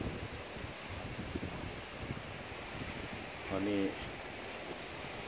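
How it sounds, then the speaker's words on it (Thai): Strong wind roars steadily past the microphone outdoors by a house, with trees behind it and wind coming off the road, and someone speaks briefly midway. "ลมแรง"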